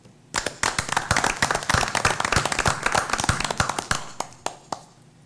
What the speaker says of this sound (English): Once again, a great round of applause for Mrs. Wendy Prey